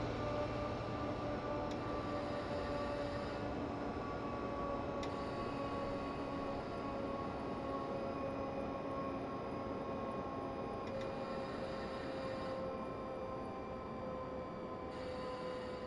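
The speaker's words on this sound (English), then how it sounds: "Another train going by." A train rolls past steadily for the whole stretch near Nienberg in the Seeberg valley, a continuous rumble with sustained tonal whine and faint ticking, fairly constant in level with no talk.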